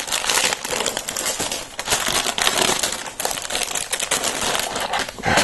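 Plastic bag from a Lego Star Wars Imperial Shuttle Tydirium set being opened, a loud, close, continuous crinkling and crumpling of thin plastic with sharp rustling bursts throughout, no voices.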